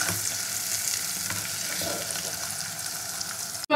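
Paneer cubes frying lightly in a pan, a soft, steady hiss of sizzling oil with faint crackles throughout, fairly quiet, ending in an abrupt knock.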